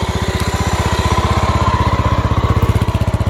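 A 1989 Honda GB 500 single-cylinder motorcycle idles close up after fourteen years on museum display, a loud, even, rapid thumping beat that holds steady throughout with no talking.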